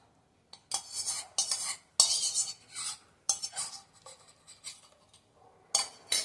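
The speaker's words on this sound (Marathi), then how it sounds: "ही जी दूध पावडरची पेस्ट आहे ही मी यात घालणार आहे." A metal spoon scrapes and clinks against a pot as milk powder paste is stirred into boiled milk with the heat off, in short bursts of busy stirring separated by brief pauses, close and fairly loud, with no talking.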